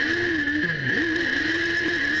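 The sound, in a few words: Suzuki SR3 race cars accelerating off the start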